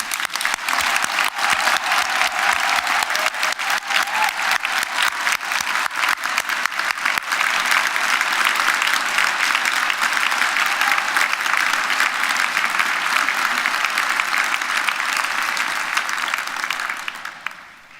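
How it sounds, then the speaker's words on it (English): Large audience at a university graduation ceremony giving the graduates a long, loud round of applause, dense continuous clapping that holds steady and then fades out at the end. "let's start today's ceremony by giving all of our amazing graduates a huge round of applause"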